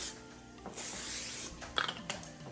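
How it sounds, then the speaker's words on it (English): A soft hissing spray of cooking spray onto a baking tray runs for a second or so, followed by faint rubbing and light handling noises nearby. "Don't forget to spray your tray."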